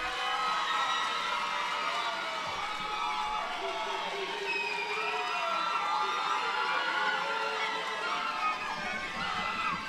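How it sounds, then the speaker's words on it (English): A graduation crowd at Manual Tech in 2015 applauds and cheers loudly and steadily, with shouts and whoops rising above dense clapping the whole way through. "Please give another round of applause for Health Science Long."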